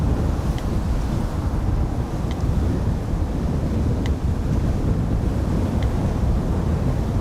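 Strong wind buffets the microphone at an airport, a steady loud broadband roar with gusting low rumble throughout, no voices.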